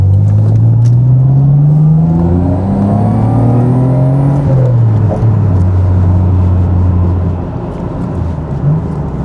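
A Nissan GTR pulls away, its engine note rising through the gears in a loud, close run of acceleration that eases off as the car moves out.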